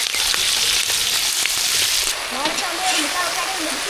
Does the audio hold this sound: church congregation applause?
no